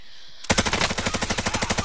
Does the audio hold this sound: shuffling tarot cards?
no